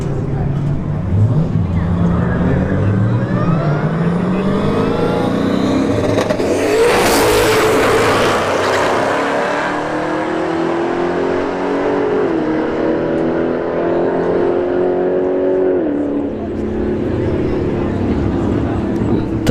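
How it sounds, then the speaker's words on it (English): A Dodge Charger Hellcat and a turbocharged Camaro SS roll race side by side at a drag strip, their engines roaring loudly and continuously for about twenty seconds as they accelerate hard and then fade slightly, with a commentator's voice over the engines. "Charger Hellcat right lane. Turbo Camaro SS in the left lane."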